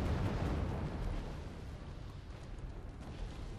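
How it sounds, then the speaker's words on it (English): Cannon and grenade launcher fire in the Wargame: Red Dragon strategy game, heard as a dense, rumbling blast that fades into a sustained low roar over several seconds, loud and with no talk. "there's a cannon and a grenade launcher that's been fired"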